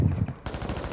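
Gunfire goes off in quick succession, sharp and loud close by, in a short burst with no talk.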